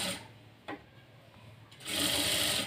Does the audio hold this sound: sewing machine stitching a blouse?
yes